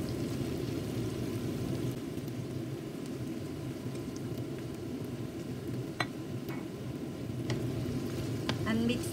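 Aubergine pieces being stirred into cooked tomato sauce in a pan, with a steady, close sizzle of frying throughout and a few brief utensil clicks near the end.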